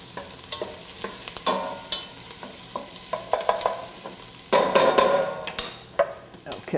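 Chopped onion stirred and frying in a pot for risotto, with repeated scraping and stirring clatter over a low sizzle, close and moderately loud, with a burst of busier stirring partway through.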